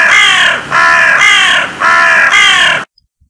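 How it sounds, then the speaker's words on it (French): Black crows give four loud, harsh caws in a steady rhythm, close by, then fall silent. "Il leva les yeux et vit s'envoler 7 corbeaux noirs."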